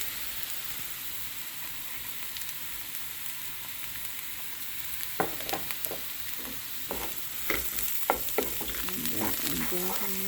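Curry powder and caramelizing pumpkin sizzle in a pot over a lowered flame, a steady hiss that turns busy with scraping, clattering stirs partway through, close and fairly loud with no talking.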